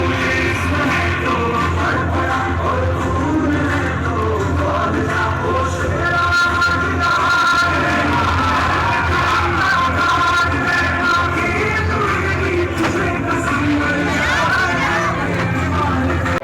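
A large crowd at a Jan Suraaj party rally, with dense, loud, continuous babble and chatter, occasional yells rising from the throng, and talk mixed throughout.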